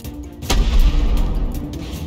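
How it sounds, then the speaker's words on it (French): A single cannon shot in the Baby in Yellow video game, a sudden deep boom followed by a rumbling low tail that lingers, loud and alone with no speech. "Le coup de canon."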